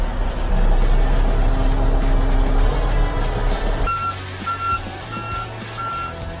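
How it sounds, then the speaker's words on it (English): A truck reverses to line up with a scraper hitch, its loud engine rumble giving way to a steady series of high reversing beeps, evenly spaced and fairly close. "back the truck back into place"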